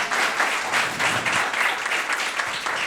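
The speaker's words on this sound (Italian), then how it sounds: "Grazie per l'applauso" Steady applause from a seated conference audience in a hall in Sassari, dense and sustained with no pauses throughout.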